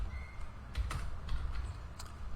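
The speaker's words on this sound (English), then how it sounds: "So all we need to do is just type" Computer keyboard typing, a handful of quiet, irregular keystrokes over a low steady room hum, with no voices.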